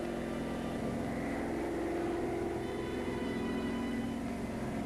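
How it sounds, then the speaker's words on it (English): WWII German reconnaissance plane in flight, a steady droning engine hum with a broadband roar that holds level and close throughout, without talk. "German reconnaissance plane"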